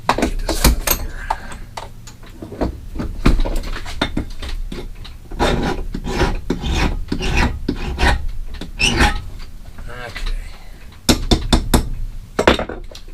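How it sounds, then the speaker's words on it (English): Metal file rasping corners onto a cam part in steady, forceful back-and-forth strokes, close and loud, with slight gaps between passes and no talk. "Use your trusty file. Put some corners on it."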